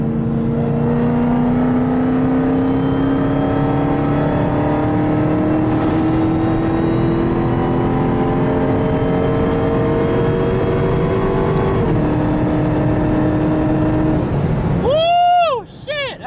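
A Dodge Charger Hellcat's engine drones under hard acceleration toward top speed, its pitch climbing steadily for a long stretch before a brief drop, loud and continuous from inside the car.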